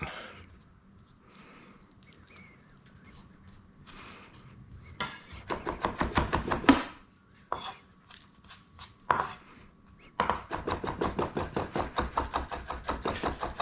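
A chef's knife smashes garlic cloves and rock-chops them on a cutting board, with a few scattered knocks followed by bursts of rapid, rhythmic chopping taps close by.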